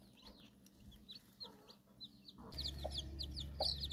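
Hens cluck in short repeated calls alongside chirping birds, growing busier and louder partway through over a low steady hum.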